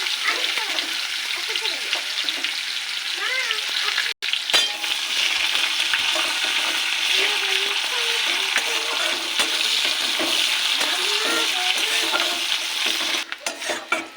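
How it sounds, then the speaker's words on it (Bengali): Bay leaves, whole garam masala, cumin seeds and chopped onion fry in hot oil for chicken kosha, giving a loud, steady crackling sizzle with occasional stirring scrapes and a brief break partway through. "এই তেলে দিয়ে দেবো তেজপাতা, গোটা গরম মশলা ফোড়ন, আর দেবো জিরে ফোড়ন, দিয়ে দেবো পেঁয়াজ কুচি।"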